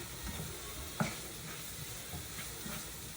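Food sautéing in a seasoned pan with cumin and salt, a faint steady sizzle with soft stirring scrapes and one brief knock.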